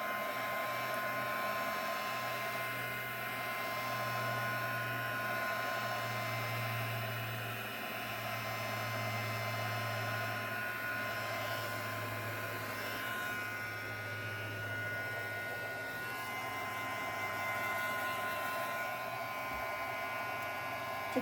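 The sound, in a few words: heat gun popping bubbles in resin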